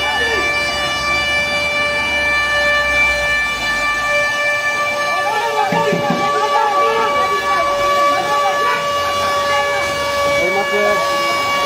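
A loud ambulance siren holds a steady, unbroken tone throughout, with muffled voices and commotion beneath it, at the scene of an ambulance fire in Narayanganj.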